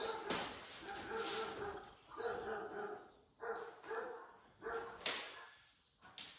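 A neighbor's dog barks out in a yard in a series of sharp, repeated barks spaced a second or so apart, heard at moderate distance outdoors.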